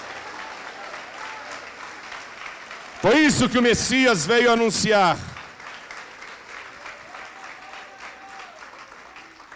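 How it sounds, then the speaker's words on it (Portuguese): A congregation applauds throughout an evangelical church service, a steady wash of clapping beneath a preacher's voice, which swells into loud, emphatic speech for a couple of seconds in the middle. "Ô glória, então aplaude ao Senhor"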